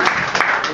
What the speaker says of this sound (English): if you could please just give an applause for that